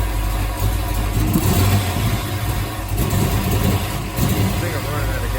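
A Ford Foxbody 5.0 302 V8 idles with a lopey, uneven rumble heard from behind the car, steady and loud, while people talk over it.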